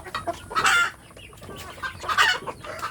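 Free-range hens in a village coop cluck close by, two loud rising cackles with softer murmuring clucks between them, no voices.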